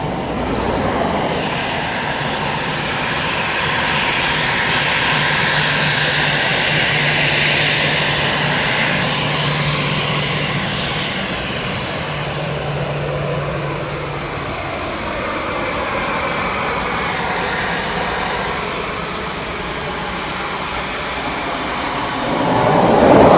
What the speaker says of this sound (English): Next up we've FR633 coming in from Copenhagen, 8-year-old Boeing 737-800 of Ryanair.